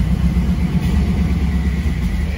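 A 1935 Ford V8 engine runs steadily just after a cold start, a continuous low rumbling idle close by with no pauses or revs.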